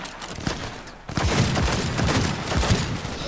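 Gunfire from Johnny Silverhand's weapon in Cyberpunk 2077, a loud burst of heavy shots after a short lull, rapid cracking reports with booming low-end impacts in quick succession.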